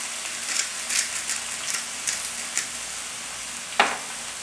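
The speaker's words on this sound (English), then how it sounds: "And we're just going to let this saute for a while." Spinach with a pinch of salt sautés in a pan, a steady broadband sizzle with soft stirring scrapes every half second or so and one sharper clack near the end, close and moderately loud with no talking.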